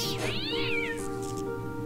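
A cat in the video game Fran Bow gives one clear, drawn-out meow that rises and falls, close and distinct over a quiet background hum.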